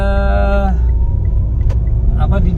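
A car rumbles low and steady along a potholed, flooded road, with engine drone and occasional knocks and jolts from the uneven surface.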